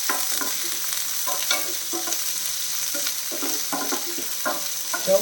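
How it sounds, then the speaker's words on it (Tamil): Onions, green chillies and spices sauté in a pan for tiffin sambar made with roasted gram, with a constant sizzle broken by repeated scraping stir strokes close by. "எல்லாமே சேர்த்து வதக்கிடலாம் வதக்கட்டும்"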